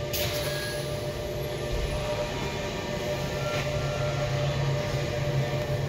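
Interior of an empty Stadler LEB commuter train carriage near Lausanne while running, a steady loud rumble and hum of wheels and motors with a faint high whine, continuous throughout.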